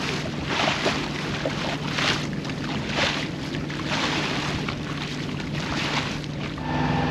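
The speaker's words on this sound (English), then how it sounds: "It's a little breezy" Steady wind roar fills a sailboat passage into a lagoon near Lady Musgrave Island on the Great Barrier Reef, mixed with water wash and buffeting against the microphone, constant and loud throughout.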